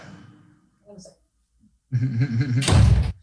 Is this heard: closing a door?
yes